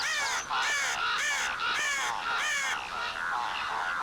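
Harsh, repeated caws of crows, several loud calls in quick succession, close by and standing alone without any talk.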